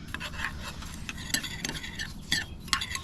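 Panko seasoning breadcrumbs being stirred into butter in a bowl, a close, quiet gritty scraping with irregular strokes and clinks of the utensil, no talking.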